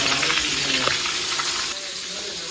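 Potatoes with turmeric sizzle steadily in hot oil in a wok, with the scrape and clatter of stirring breaking through the continuous frying hiss.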